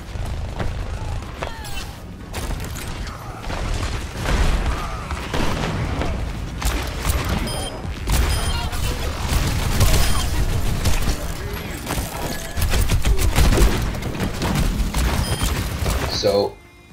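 Loud Rocket League match running on max settings at 1080p, with steady engine roar, booming hits and explosive thuds layered throughout, ending abruptly.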